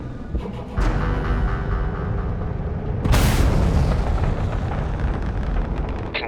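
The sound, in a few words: homing missile explosion during starship combat in Starfield video game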